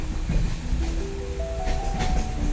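The Murudeshwar Express running on the Mangaluru–Mysuru line gives a steady, close rolling rumble with light clatter and thin rising tonal squeals over the rails.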